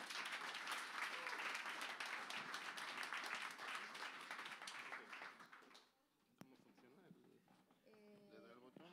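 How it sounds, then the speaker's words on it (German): An audience at an Astronomy on Tap talk in a Bonn bar applauds a professor, a loud, dense ovation lasting several seconds that then fades to a few scattered claps as a voice begins speaking. "Also, ein großes Applaus für Professor Ros."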